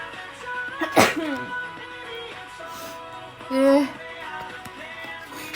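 A woman lets out one sharp, close sneeze, followed by a softer vocal sound a few seconds later against quiet room tone.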